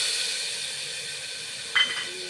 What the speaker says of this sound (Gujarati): આટલા છે ટમેટા સુનારેલા પેલા વઘારમાં નાખી દેવાના